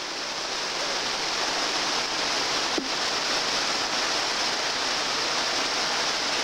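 Steady heavy rain pours down in a constant broadband hiss across the whole stretch, with one brief sharp tick near the middle and no voices.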